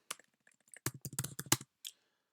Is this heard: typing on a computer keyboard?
yes